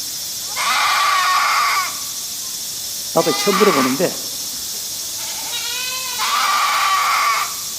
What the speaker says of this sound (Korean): 양소리 한번 들어보세요.